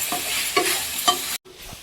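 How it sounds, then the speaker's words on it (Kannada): Salt is mixed into half a kilo of chicken in a hot pan, with a sizzle under repeated close scraping stir strokes that stop abruptly and then resume more quietly. "ಉಪ್ಪು ಮಿಕ್ಸಿಂಗ್."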